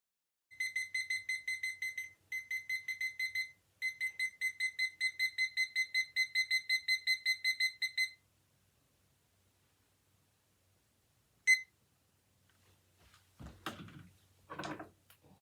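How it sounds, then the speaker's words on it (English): A small timer sounds its alarm in a bedroom during a decluttering project. Rapid high electronic beeps repeat in three close bursts, loud and steady, then stop. A lone beep and faint handling noises follow. "to set a timer while I'm doing a project like this"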